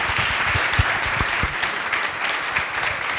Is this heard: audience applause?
yes